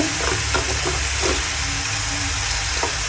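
Spices (turmeric, cumin, coriander powder and meat masala) sizzling and frying steadily in a hot pan for a winter cabbage curry, a continuous close hiss with a few soft stirring scrapes and no voices.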